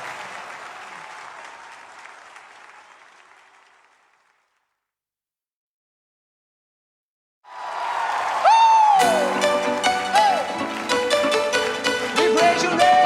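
A church congregation cheers and applauds at a Sunday evening worship service, the crowd noise fading into silence midway before loud music with singing swells back in.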